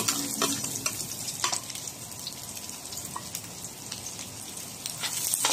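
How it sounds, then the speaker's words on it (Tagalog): Chopped garlic and onion fry in a pan for a ground-meat giniling dish, giving a continuous crackling sizzle with scattered pops and a few sharper clicks. Close and fairly even, no one speaking. "Ilagay na natin itong bawang. Sunod natin ilagay itong sibuyas."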